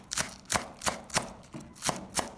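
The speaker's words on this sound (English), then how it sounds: "Chop the green parts of the spring onions." A knife chops the green parts of spring onions on a board in seven crisp, evenly spaced strikes. The chopping is close and fairly quiet, with no talking.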